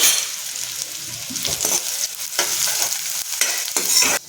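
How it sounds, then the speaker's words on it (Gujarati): Steady hot-oil sizzle of onions sautéing, with several scraping stirs of a spoon against the pan; no voices. "ઝીણી સમારેલી ડુંગળી અને આપણે 2 મિનિટ સાતળી લઈશું"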